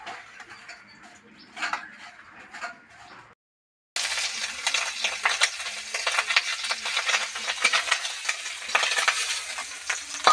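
Egg and fish frying together in a pan for a village-style meal, a steady broadband sizzle that starts loud and continuous after a brief quiet gap, with scraping stir sounds over it.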